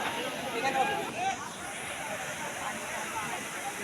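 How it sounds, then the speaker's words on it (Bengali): Water from a hillside waterfall at Jaflong pours in a steady broadband rush, with a crowd murmuring faintly beneath the constant roar. "পাহাড় থেকে এই যে ঝর্নার পানি পড়তেছে"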